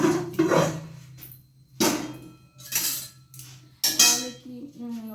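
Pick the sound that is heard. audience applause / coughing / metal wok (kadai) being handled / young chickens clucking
metal wok (kadai) being handled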